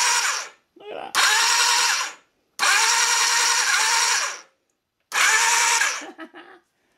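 Repeated crackling, buzzing bursts from a Japanese replacement motorcycle CDI ignition firing sparks, coming in four separate loud spells of one to two seconds with short silences between.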